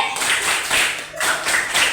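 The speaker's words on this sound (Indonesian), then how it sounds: "Tepuk hebat" Schoolchildren in a classroom perform the rhythmic 'tepuk hebat' clapping routine, sharp bursts of unison claps in a repeating pattern.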